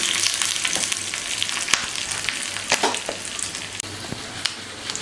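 Mustard seeds, urad dal, curry leaves and a pinch of asafoetida sizzle in hot oil for a tempering, a steady crackling hiss with scattered sharp pops throughout, close and alone without voices.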